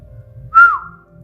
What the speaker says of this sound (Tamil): என் வீட்டுக்குள்ளே எவன்டா வந்து விசில் அடிக்கிறது